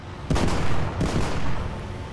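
A tank's ammunition rack detonating in War Thunder, aboard a Leopard 2A6, comes as a heavy, rumbling explosion with repeated blast bursts rolling over about two seconds, loud and sustained.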